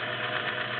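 A vintage Singer 503A Slantomatic sewing machine runs steadily with a metal bobbin fitted, giving a continuous, even motor hum and whir at moderate level with no talk over it.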